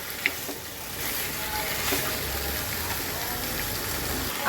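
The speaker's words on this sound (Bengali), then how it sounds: "আমি কিন্তু এখন ম্যারিনেট করা মাংসটাকে পেঁয়াজ মধ্যে দিয়ে দিলাম এখন আমি এটাকে সুন্দর করে কষাবো" Marinated chicken sizzles and fries steadily with onions in a pan, a continuous close hiss and crackle with an occasional clink, without talk.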